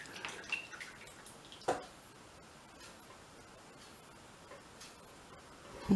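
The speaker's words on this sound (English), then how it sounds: "leave it just to drip a second." Homemade elderflower cordial left to drip from an upturned container into a bowl, a few quiet, sparse drips and light ticks over a low background hush.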